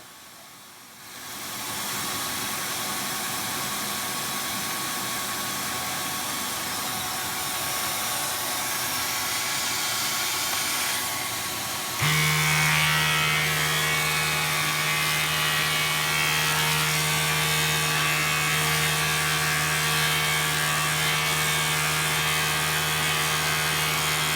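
A Flowbee vacuum haircutter runs with a steady loud whirring hiss, its pitch and tone shifting midway as the motor hum deepens and continues droning close by without a break.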